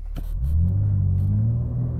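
A new BMW M4 Competition, rear-wheel drive, roars up hard from a launch-control start, a deep rising rumble that builds and holds close by, with a brief tire chirp at the start.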